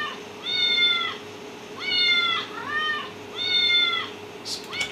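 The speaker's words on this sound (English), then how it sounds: "this sound here, which is the cat inside the microwave" A cat meowing inside a microwave, four clear drawn-out meows in steady succession, close and prominent, followed by a brief rustle at the end.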